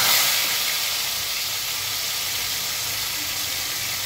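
Chicken fries in hot oil over high heat, a steady loud broadband hiss and sizzle that starts slightly stronger and holds evenly throughout, with no voices.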